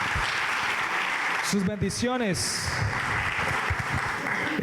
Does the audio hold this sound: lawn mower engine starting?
no